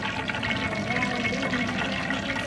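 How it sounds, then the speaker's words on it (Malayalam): Cooking oil pours steadily into a pan for lubika pickle, a continuous liquid rush that fills the clip, close and fairly quiet. "പാത്രത്തിലോട്ട് എണ്ണ ഒഴിക്കാം."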